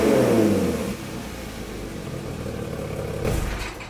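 A car engine with exhaust valves open revs up loudly, then settles into a steady rumbling idle before another brief surge of throttle.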